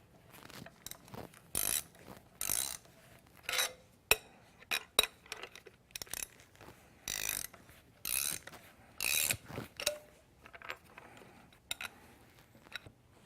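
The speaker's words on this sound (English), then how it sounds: "Now we will slowly tighten the spools until the R-bar is fully seated into the slot." Restrictor bar being seated as its spools are tightened a little at a time from one end to the other, giving short bursts of ratcheting clicks and clacks separated by pauses, fairly quiet and close, with no talk.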